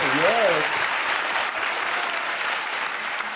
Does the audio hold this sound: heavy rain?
no